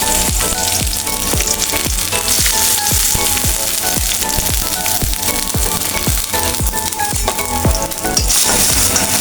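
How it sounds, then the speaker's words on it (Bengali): Onion and green chili fry in mustard oil with a loud, constant sizzle, broken by steady, rhythmic scraping strokes as a spoon stirs close by. "এখন সর্ষের তেল দিয়ে দিলাম, পেঁয়াজ কাঁচামরিচ দিয়ে দিলাম"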